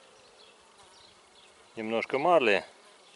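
Honeybees and other insects buzz softly while feeding on honey set on top of a beehive, a faint steady hum that continues under a short stretch of close speech.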